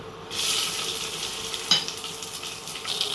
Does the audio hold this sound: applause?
no